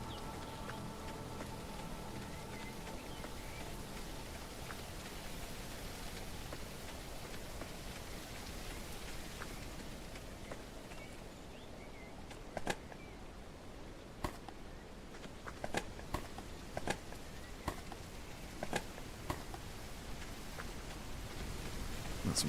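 Rain falls steadily in the zombie survival game HumanitZ, a constant hiss of moderate loudness, with sharper scattered drops and taps joining in the latter half.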